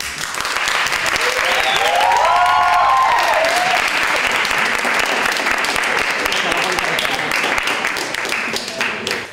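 Audience in a university classroom applauding, loud dense clapping sustained for several seconds, with a voice briefly over it.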